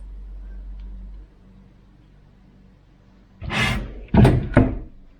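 An old-style kitchen cupboard door with a clasp closes, making a soft whoosh and then two quick, loud knocking clacks near the end, after a quiet room.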